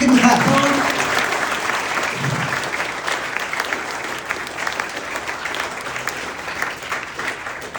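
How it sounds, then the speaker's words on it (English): Students at St Patrick's College applaud in a school assembly, a loud dense burst of clapping at the start that eases to a steady, slightly thinner applause with some cheering voices mixed in. "Give him a clap"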